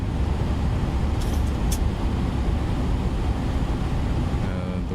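A Boeing 737-900ER in a flight simulator, cruising from Chicago to Atlanta, gives a steady, loud, broadband engine and airflow roar that stays constant throughout, with a faint high whine in the background.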